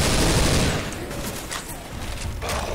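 Gunfire in the zombie shooter Left 4 Dead 2 comes as a dense, loud burst of rapid shots that fades to scattered cracks and softer rattles, with a few sharper shots near the end.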